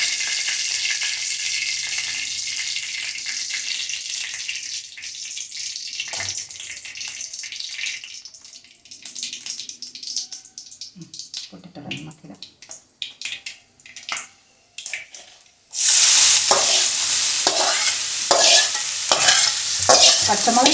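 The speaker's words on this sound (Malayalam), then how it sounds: "കുമ്പളങ്ങയും തേങ്ങയും എല്ലാം കൂടെ മിക്സ് ചെയ്ത് വെച്ചിരിക്കുന്നത് ഇതിലേക്ക് ചേർത്ത് കൊടുക്കുക" Ash gourd and grated coconut thoran is stir-fried in a pan for a Kerala-style home dish. A loud sizzle at first quiets into scraping stirs, then the sizzling rises loudly again.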